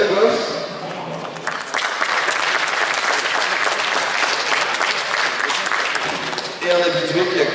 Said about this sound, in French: Donc merci d'accueillir et d'applaudir Yann Le Goff.